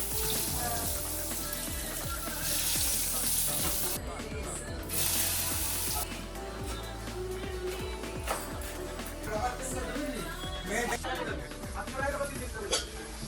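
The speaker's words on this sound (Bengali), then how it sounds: "এখানে এবার এক এক করে ভাজাভুজিগুলো হচ্ছে" Snacks for a Ganesh Chaturthi puja offering sizzle in hot oil in a home kitchen. A steady, loud frying hiss fills the scene, with occasional clinks and voices talking over it.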